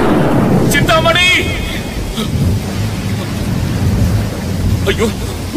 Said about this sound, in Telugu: ఈ గాలి వాన తగ్గేలా లేదే